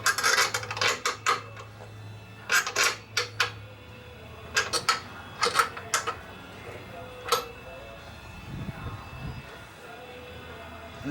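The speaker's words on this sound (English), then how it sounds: "I'm just wiggling it and then turning the nut at the same time." Fog light being wiggled while its mounting nut is turned on a bullnose Ford F-150, giving close, irregular clusters of metallic clicks and rubbing scrapes separated by quiet pauses.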